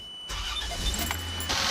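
A car engine fires up after a crankshaft seal repair: quiet at first, then a sudden cranking catch into a steady, close running roar that swells again near the end.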